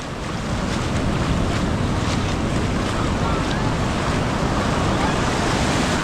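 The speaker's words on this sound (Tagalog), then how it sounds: "Lakas ng alon." Strong ocean waves surge at La Union beach, a loud, continuous roar of surf blended with heavy wind buffeting the microphone throughout.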